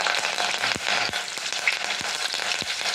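Green chilies and curry leaves with mustard seeds frying in hot oil, a steady close sizzle with scattered crackles and sharp pops from spattering seeds, no voices.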